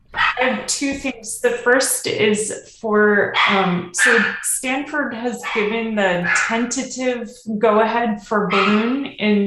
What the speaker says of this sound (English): I'm sorry for the barking puppy in the background